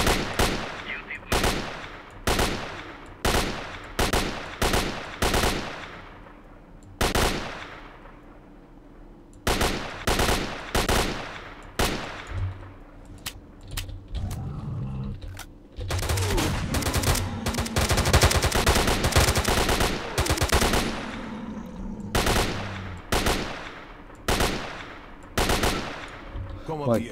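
Loud automatic gunfire from a battle in S.T.A.L.K.E.R.: Lost Alpha, with repeated sharp bursts separated by short gaps and a denser stretch of sustained firing in the middle.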